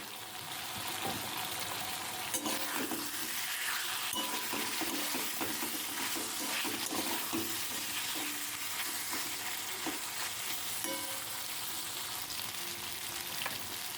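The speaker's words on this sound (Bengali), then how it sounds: "এবার আমি দিয়ে দিচ্ছি ভেজে রাখা পটল।" Fried potato and pointed gourd sizzle steadily in a pan while a spatula stirs them with repeated scraping, heard close and continuous without talking.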